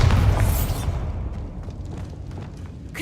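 A Bombarda explosion spell in Hogwarts Legacy hits as a loud, deep boom that fades into a rumbling, crackling tail over about three seconds.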